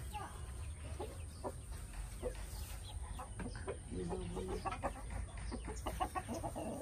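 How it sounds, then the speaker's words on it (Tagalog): Hungry chickens at feeding time on a rural province farm cluck in repeated short bursts close to the microphone, over a low background rumble, with people talking nearby. "Gutom na yung mga manok"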